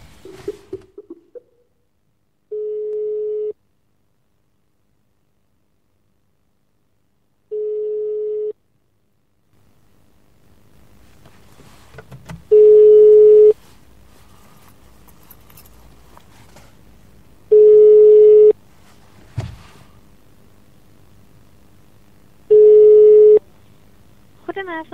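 A phone call to the bar of the Hilton Schiphol Airport hotel: short, clean line tones repeat at even intervals, about six bursts in all. The later ones sit over a low background hum and crackle.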